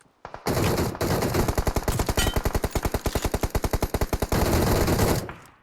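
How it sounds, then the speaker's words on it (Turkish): Sustained automatic gunfire in the mobile battle royale game PUBG Mobile, a long rapid string of evenly spaced loud shots, briefly interrupted, then continuing before fading out. "Taraflardan biri sıkıyor."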